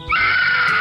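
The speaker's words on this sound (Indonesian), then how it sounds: "Itu mah orang teriak-teriak." A person screams in a comedy film, one sustained, loud, high-pitched cry held close for nearly a second with no other sound.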